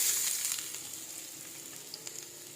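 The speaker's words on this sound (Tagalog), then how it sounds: "Ang bawang, gisahin." Garlic sautéing in a non-stick pan, a steady close sizzle and crackle that is loudest at first and gradually eases, with occasional light pops and no talking.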